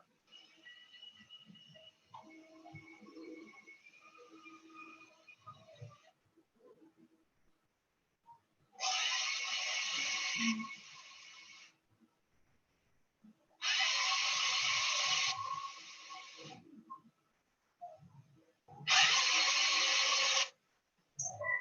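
A geared motor drive unit built to move a wheelchair, with a high reduction gear ratio, runs in three separate loud bursts of whirring mechanical noise, each lasting a few seconds, with quiet gaps between and faint background sounds earlier.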